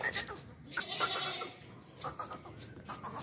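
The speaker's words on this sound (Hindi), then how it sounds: "बहुत ही प्यारा खूबसूरत बकरा है" A long-eared goat at a livestock market bleats a few times, fairly close but soft, with brief chatter and background noise around it.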